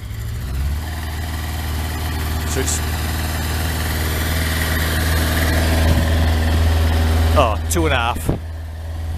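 A Kawasaki ZX12R motorcycle idles on choke after its first start in twelve months, a steady low engine drone that gradually builds, with someone speaking briefly near the end.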